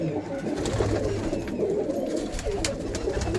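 Pigeons coo continuously in a dense, close chorus of low rolling calls, with faint voices and small noises now and then.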